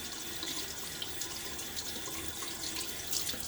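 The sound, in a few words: tap water rinsing a safety razor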